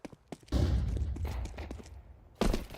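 Pistol fire in a competitive video game match: a few light clicks, then a dense burst of overlapping shots for about two seconds, a brief lull and another loud burst, with no clear talk.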